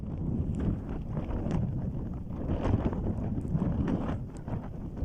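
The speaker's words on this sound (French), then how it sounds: "Vous entendez le vent?" Wind gusting around a solo mountain bivouac at night, a steady low roar with swelling surges and flapping buffets, close and continuous with no voices.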